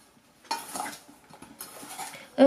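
Spoon stirring kisiel powder into strawberries in a bowl, a few scraping, clinking strokes in short bursts, close and alone, ending with a sharper clink.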